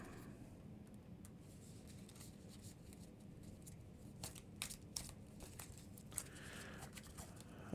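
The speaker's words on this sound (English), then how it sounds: "Let me give my deck a quick shuffle." Soft riffling and snapping of a deck of game cards being shuffled by hand at a tabletop, quiet and close, with a burst of quick crisp flicks toward the end and no talking.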